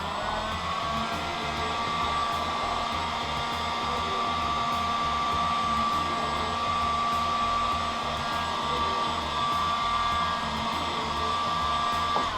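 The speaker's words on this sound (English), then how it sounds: "always think about the heat when you're using a heat gun" Heat gun warming vinyl wrap on a VW Golf grille, blowing with a constant, close whirring hiss and a steady whine, unbroken for the whole stretch with no voices.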